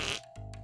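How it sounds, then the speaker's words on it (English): Cartoonish fart sound effect, a short burst followed by a lower, fluttering rumble, loud and isolated with no talking. "We're not the only ones who fart."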